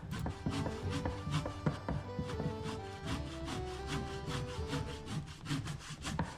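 Steady back-and-forth strokes of a hand saw cutting through sea-soaked driftwood, a continuous rasping rhythm close to the microphone with no voices.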